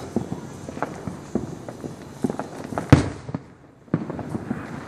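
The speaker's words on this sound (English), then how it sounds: "I would just miss my neighbor's fireworks and shit" Neighborhood Fourth of July fireworks crackle and pop in a rapid, irregular series of close, sharp bursts, with one louder bang near the end before the crackling resumes.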